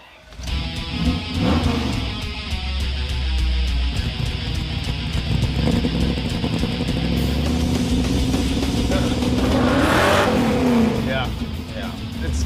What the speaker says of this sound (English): It's spinning the tires on dirt.